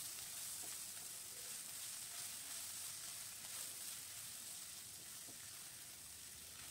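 Onion frying in a pan with cumin, coriander and turmeric powders for palak paneer gives off a soft, steady sizzle and hiss, quiet and continuous, with no voices.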